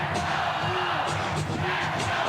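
Packed arena crowd at a 1996 WAC Championship volleyball match between BYU and Hawaii in Honolulu, cheering and whooping loudly and continuously, with an announcer's voice running over the noise.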